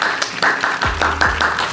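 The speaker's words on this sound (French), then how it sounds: "Applaudissez." A group applauds a student's move to Montpellier to play first-division football, with scattered clapping over a steady bed of crowd noise and a couple of low thuds.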